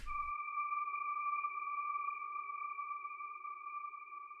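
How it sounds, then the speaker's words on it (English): High-pitched screechy synth lead from an Ableton Live project holds one steady sustained tone with a faint lower layer, bathed in heavy reverb after a brief low thump at the start, alone and moderately quiet. "The last element I have here is just this like really high pitch screechy lead."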